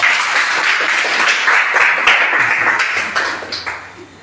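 Congregation applauding at a church teaching session in Bingerville, Côte d'Ivoire: dense, steady clapping from many hands throughout, close and loud, tapering off toward the end.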